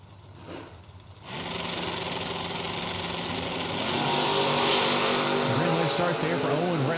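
Drag race launch between a 1982 Camaro and a 1965 Nova: a loud, sustained engine roar swells after about a second and climbs in pitch as the cars pull away, with an announcer talking over it.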